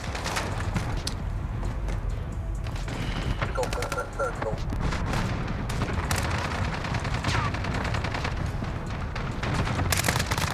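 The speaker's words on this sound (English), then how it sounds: "Allied cluster strike inbound." Cluster strike explosions in Call of Duty Modern Warfare, a dense rolling barrage of blasts and gunfire that continues throughout, with brief in-game voice callouts mixed in.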